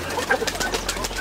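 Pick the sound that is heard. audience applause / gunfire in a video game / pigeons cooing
pigeons cooing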